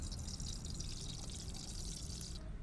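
Soybean oil pours into a deep-bottomed pan on a gas stove, a steady soft hiss and trickle running continuously for a couple of seconds before stopping, with no talking.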